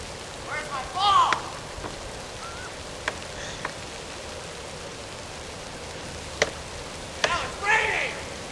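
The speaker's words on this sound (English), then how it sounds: "Now it's raining!" Steady rain falls outdoors on a freezing November day, a continuous even hiss broken by a few brief knocks and rustles, with voices briefly heard in the mix.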